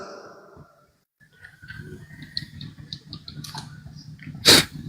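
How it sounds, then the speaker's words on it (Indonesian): A man sneezes once, loudly and close, a sharp burst after a stretch of muffled background murmur and faint talk. "Sorry ya, saya bersin-bersin."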